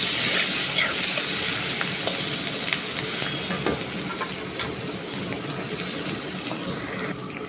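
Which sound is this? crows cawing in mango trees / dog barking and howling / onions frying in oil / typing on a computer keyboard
onions frying in oil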